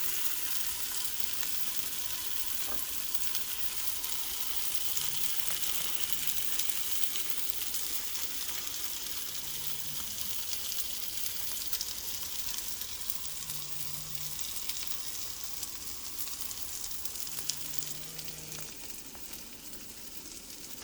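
Cheese bread fries in a pan on the stove, giving a continuous close sizzle that holds steady throughout, with faint occasional stirring or shifting sounds and no speech.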